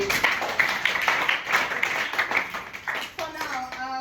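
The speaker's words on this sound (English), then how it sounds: "Can we clap for him," A room of students claps for a classmate at a performing arts session in Nigeria, several seconds of brisk, uneven hand claps, with a voice briefly speaking near the end.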